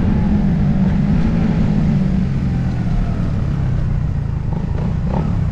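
Suzuki Raider Fi 150 motorcycle engine running at speed on a busy bypass road, a loud, steady low drone with heavy wind rumble throughout and no voices.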